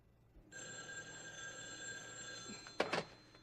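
A telephone bell rings indoors in an office setting, a sustained electric trill starting after a brief pause, followed by a couple of sharper clattering knocks near the end.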